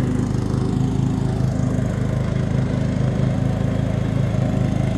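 A lawn mower engine runs steadily while cutting grass on a hill, a loud, close, continuous droning rumble with an even pulsing beat and no voices.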